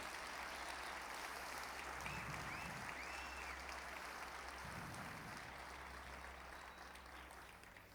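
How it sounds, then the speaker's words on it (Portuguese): A church congregation applauds steadily throughout, a dense even wash of clapping that fades slightly toward the end, with a low hum beneath. "Aplauda, aplauda Ele."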